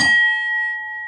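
A single short metallic ting from an old CQR Type H alarm bell, struck once and left to ring out with a clear, fading tone.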